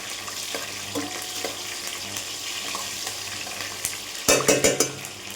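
Chillies being stirred in hot oil tempering for dhokla in a pan, a steady close frying sizzle with soft scraping, then a brief louder burst of clattering and spattering near the end.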